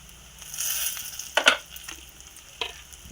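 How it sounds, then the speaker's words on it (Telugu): Brinjal pieces frying with garlic and chilli powder in a pan on low heat, a soft hiss broken by a few brief stirring scrapes and clatters. "చూసారా వంకాయ ఎలా ఫ్రై అయిందో"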